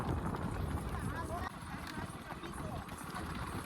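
Horse hooves clip-clop in a quick, steady rhythm, fairly close, mixed under continuous chatter from people nearby.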